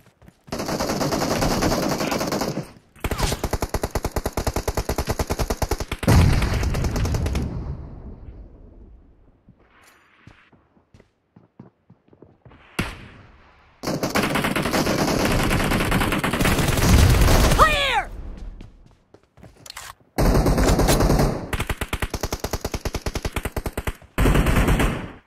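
Bursts of automatic machine gun fire in PUBG, several long rattling volleys broken by quieter gaps, loud and close with explosive rumble and a ringing metallic ping mid-way.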